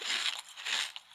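A character eats a mushroom in the pirate survival game Last Pirate, giving one short, quiet crunchy bite with a brief chewing crackle.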